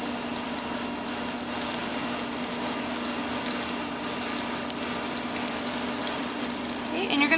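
Onion rings deep frying in hot oil, a steady close sizzle and bubbling hiss running unbroken throughout with small crackles, no talk.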